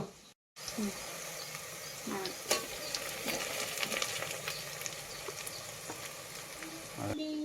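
Green chillies and ginger paste frying in a pan for chicken curry, a steady sizzle broken by stirring scrapes and clinks, starting after a brief silence, with occasional faint voice sounds.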